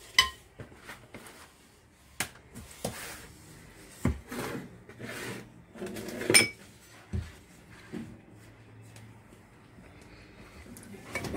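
A spoon or whisk clinks and scrapes against a bowl while brioche dough ingredients, eggs and warm water, are mixed, giving irregular knocks and rubs that come close and fairly loud with pauses between.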